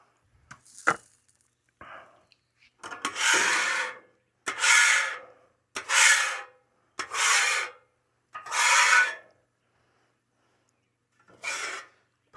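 A metal scraper rasps across a hot griddle while a Philly cheesesteak is cooked, giving about six separate scraping strokes, each a second or so long with short gaps between them, close and moderately loud, with no talk.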